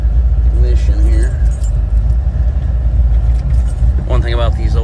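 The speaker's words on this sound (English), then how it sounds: "Stick the keys back in the ignition here." Car keys jangle briefly in the ignition under a steady idling rumble from a 1961 Chevrolet Impala's fuel-injected 283 V8, with a voice speaking near the end.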